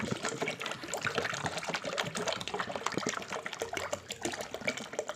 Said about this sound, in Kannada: ಇವಾಗ ನೀರು ಹಾಕ್ಕೊಳ್ತಾ ಇದ್ದೀನಿ.